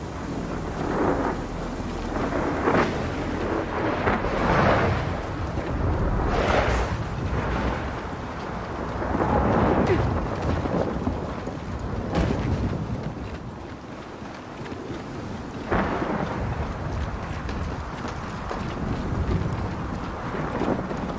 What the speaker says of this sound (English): we got another wind flare